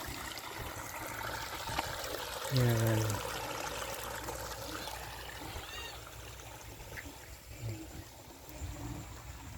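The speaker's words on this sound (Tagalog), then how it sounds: "Lakas ang tubig dito guys, oh, kahit nga El Nino." Strong water flows steadily through a rice paddy field with a continuous rushing trickle. A voice speaks briefly partway through.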